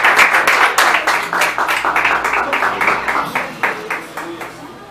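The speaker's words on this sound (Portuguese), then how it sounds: "Você vem com as palmas," A church congregation claps in a fast, even rhythm. The clapping is loud and close and continues throughout.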